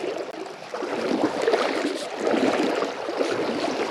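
Legs wade through a flowing river while fishing, water swishing and gurgling continuously at close range without talk.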